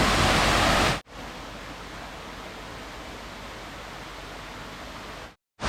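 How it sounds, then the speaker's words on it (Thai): Indoor waterfall inside a forest cafe: a steady, soft wash of falling water fills the space evenly, moderately quiet, after a brief louder burst at the start and with a short cut near the end. "มันจะมีน้ำตกอยู่ด้านในร้าน"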